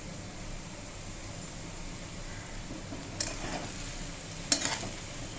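Rice, dal and potatoes are being stirred in a pan for soybean khichuri. A steady low sizzle runs throughout, and a few scraping clinks of the spoon come near the end.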